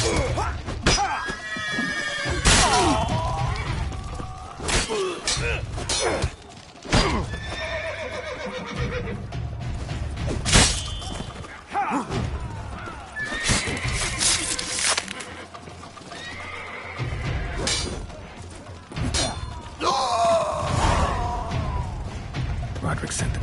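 Horses in The Witcher 3 video game neigh and whinny several times over clip-clopping hooves and thumps, with voiced character dialogue breaking in between the calls.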